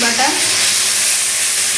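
Onions frying and being stirred in a pan with a little salt, giving a dense, steady loud sizzle throughout with faint scraping of the spoon underneath, no voices.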